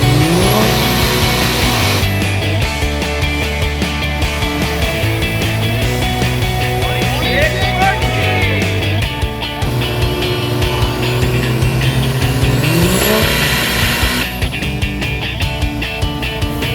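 A high-horsepower diesel engine roars loud and close on a dyno, its pitch climbing in repeated long revving sweeps that fall back and rise again.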